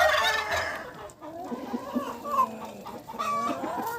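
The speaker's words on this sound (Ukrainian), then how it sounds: "тут півень. Щось кличе своїх дівчат." A rooster makes a run of short, clucking calls, close by and fairly loud, with other hens clucking softly in the background.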